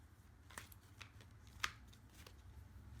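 A tarot card deck being shuffled by hand: a few quick, soft papery riffles and snaps, close and quiet, with one sharper flick partway through and no talking.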